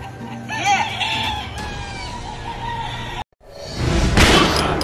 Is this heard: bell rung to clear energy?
no